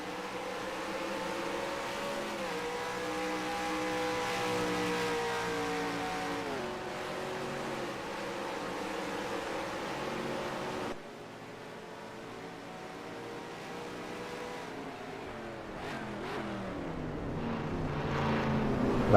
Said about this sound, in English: Lovely driving from McQueen around that hairpin